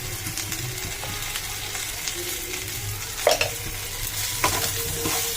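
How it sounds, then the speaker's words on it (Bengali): Okra and potato sabzi seasoned with salt and turmeric frying in a pan, with a steady close sizzle and a few scraping stirs of the spoon; no one talks. "একটু নেড়ে ঢাকা দিয়ে দেবো।"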